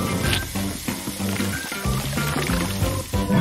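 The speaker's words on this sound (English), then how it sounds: "Better wash the paint off before I make a mess." Water pours steadily from a tap or container over paint-covered hands being washed, a continuous splashing stream close by with faint music or background tones underneath.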